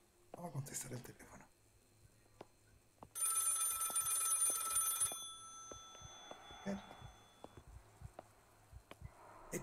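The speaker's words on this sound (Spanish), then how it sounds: "Vamos a contestar el teléfono." In the horror game Maid of Sker, an old telephone rings in a loud, sustained electric trill lasting about two seconds, amid sparse footsteps and quiet ambience, with brief talk before it.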